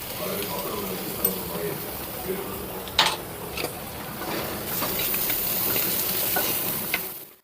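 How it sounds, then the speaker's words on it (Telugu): Egg bhurji with fresh coriander sizzles and fries steadily in a pan, a soft continuous crackle with a few clinks of a utensil stirring, growing slightly louder toward the end. "ఇప్పుడు కొత్తిమీర వేసుకొని ఒక 2 నిమిషాలు ఉంచేసుకొని ఆఫ్ చేసుకోవాలి."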